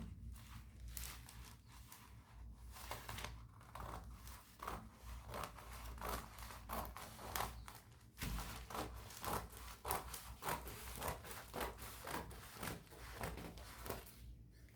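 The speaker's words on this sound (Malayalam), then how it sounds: "ഇങ്ങനെ നടുവേനെ കട്ട് ചെയ്തെടുക്കണം" Scissors cut paper into pieces for making decorative flowers for the Pindi Perunnal festival, with faint, repeated snipping and rustling that carries on steadily at close range.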